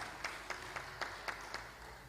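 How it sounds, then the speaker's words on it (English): Church congregation giving a welcome round of applause at a mental health service; faint, distant clapping with a few sharper claps recurring at a steady beat, no talking. "Let us hear that warm Calvary welcome applause."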